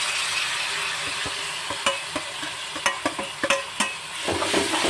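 Tomatoes and golden-brown fried onions are stirred in a pan for restaurant-style paneer bhurji, giving a steady soft sizzle with a run of sharp utensil scrapes and taps in the middle and no talking.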